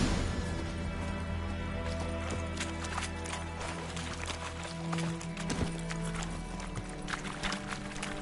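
Horse hooves clip-clop at a quick running pace in The Witcher 3, rhythmic thuds over a steady background of game ambience, moderately close.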